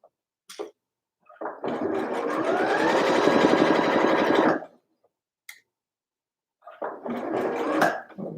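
Sewing machine stitching a sweater seam in short stop-start bursts, one long steady whirring run followed by a shorter burst, with faint clicks in between, close by.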